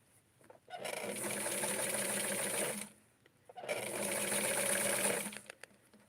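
Sewing machine stitching wrap skirt fabric close to the edge, running in two steady whirring bursts of about two seconds each separated by a short pause, close and fairly loud.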